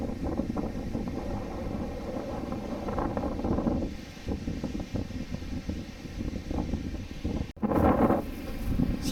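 Strong wind buffets an open-air motorcycle campsite, roaring and gusting steadily throughout with rough microphone rumble, swelling and dipping, plus one sudden sharp knock near the end.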